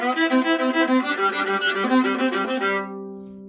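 Viola playing the third line of a chamber placement audition excerpt, a steady bowed melodic passage of connected notes that ends on a held, fading tone, close and alone.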